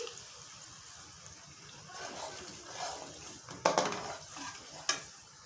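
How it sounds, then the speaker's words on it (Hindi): Whisked yogurt is added to a pan on a low flame and stirred for white chicken korma, giving a soft sizzle with scraping and stirring, plus a couple of sharp utensil knocks on the pan near the end. "इसको मैंने अच्छे तरीके से फेंट लिया है और फेंटने के बाद लो फ्लेम पे मैं इसको ऐड करूँगी"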